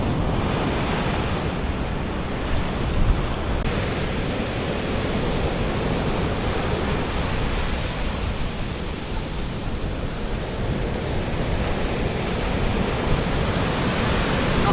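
Steady roar of rough sea waves breaking on Copacabana beach in Rio de Janeiro, continuous and loud, with a wind-like hiss throughout and no voices.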